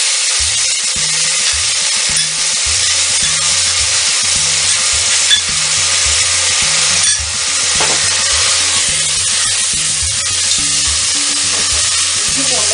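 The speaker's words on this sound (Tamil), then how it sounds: "நம்ம இந்த டைமில் இஞ்சி பூண்டு பேஸ்ட்டு சேர்த்துக்கிறோம்" Onion with ginger garlic paste sautéing in a pan, a loud hissing sizzle. Rhythmic spatula scraping runs steadily through it, and a few light knocks on the pan sound along the way.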